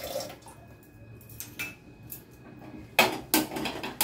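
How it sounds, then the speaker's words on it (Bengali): Kitchen clatter of pots and utensils with water as lentils are set to cook in filtered water, a few sharp metallic knocks and soft splashes at close range. "আমি কেন্টের জল দিয়ে ডালটা বসাচ্ছি।"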